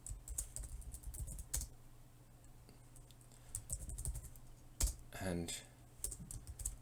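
Someone types code for a Raspberry Pi project on a computer keyboard, soft uneven clatter in short runs with a sharper click or two, faint and close, while someone talks briefly over it.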